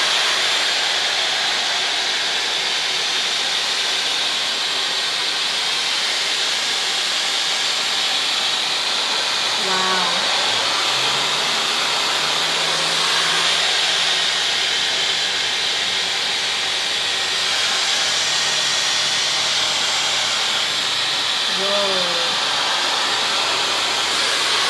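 A Dyson Supersonic hair dryer fitted with the flyaway attachment blows in a loud, steady airy roar that runs unbroken throughout, with a few faint voice-like murmurs mixed in underneath.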